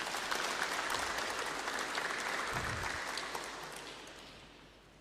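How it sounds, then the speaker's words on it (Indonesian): Crowd applause at a West Java provincial ceremony for newly appointed civil servants, a dense steady clatter of many hands filling the room before gradually fading toward the end. "Tepuk tangan dong untuk Jawa Barat."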